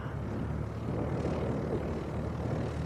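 Light aircraft at Leeds East Airport taxiing back onto the runway to line up, a steady continuous engine drone with low rumble, fairly close and even in level, with breezy wind noise and no talking.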